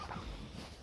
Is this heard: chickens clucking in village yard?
yes